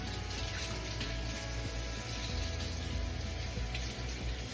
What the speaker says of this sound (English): And just give it a good rinse.